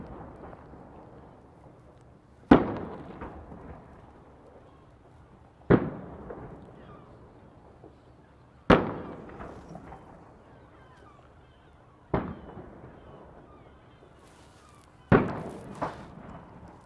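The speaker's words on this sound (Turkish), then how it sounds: "TCG Salih Reis Fırkateyni'nden atış yapılıyor. Top seslerini siz de duyuyorsunuz." Naval gun salute fired from the Turkish frigate TCG Salih Reis, five heavy booms spaced about three seconds apart, each a sharp distant blast with a rolling decay, over quiet background.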